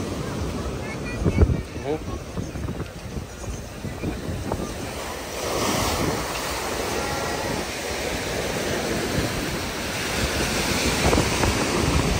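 Strong, rough ocean surf on a busy Sri Lankan beach, a steady broadband wash of breaking waves mixed with heavy wind buffeting the microphone, with a louder surge near the start and a sustained roar throughout.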